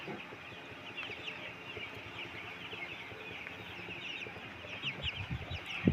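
Broiler chicks, all hatched on the same day, cheep in a steady, dense chorus of thin high peeps inside a poultry house, with scattered louder calls and a few soft clucks near the end.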